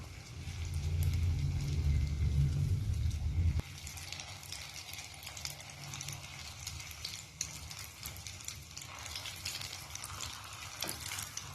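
Vegetable fritter batter for bakwan, or weci, dropped into hot oil and frying, giving a steady close crackling sizzle that is loud at first and then settles into a softer continuous fizz.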